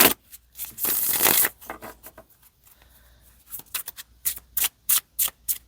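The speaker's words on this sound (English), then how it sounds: "They do riffle shuffle well." Tarot cards riffle shuffled at close range: a long fluttering whir, a pause with quiet handling, then a string of short crisp card snaps.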